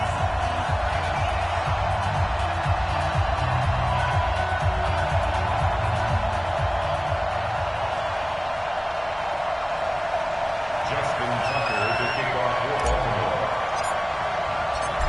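A steady stadium crowd roar fills an EA Sports NFL video game set at Baltimore's stadium, continuing under a commentator's voice.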